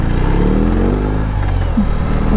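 A 2021 BMW R18 motorcycle's big engine revs on a test ride, a loud, close, deep grunting rumble that swells and settles, with steady low throb under the wind.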